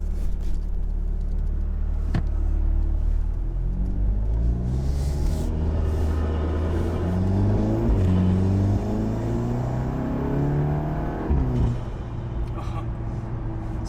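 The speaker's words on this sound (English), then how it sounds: "It just sounds like a race car all the time." A 2019 Volkswagen Golf R with a modified engine revs and accelerates through rising and falling gear pulls, its steady rumbling drone heard from inside the car, with a voice speaking intermittently over it.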